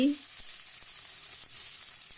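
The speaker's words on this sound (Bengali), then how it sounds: "ভাপিয়ে নেওয়া কপি আলুগুলি এই কড়াইতে ফ্রাই করে নেব" Steamed cauliflower and potato pieces fry in mustard oil in a hot wok, giving a steady, bright sizzle with a few soft stirring knocks and no talk.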